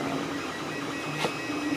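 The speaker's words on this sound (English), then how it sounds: "So I'm printing out those on my printer." A 3D printer hums and whirs steadily up close, printing an anti-zipper capsule, with a constant motor drone and a brief soft clack partway through.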